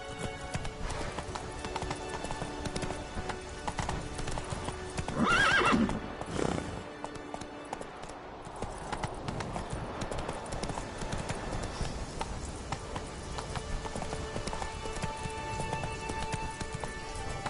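Roach, the horse in The Witcher 3, gallops with steady clip-clop hoofbeats and gives a loud whinny partway through, heard up close over a soft ambient bed of game sound.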